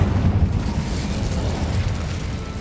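Incendio fire spell cast in Hogwarts Legacy, a rumbling burst of flame with a deep boom, loud and sustained through the clip with no other sounds on top.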